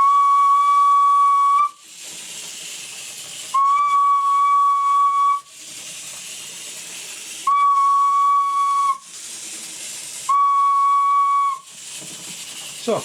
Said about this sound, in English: And then when I blow the whistle,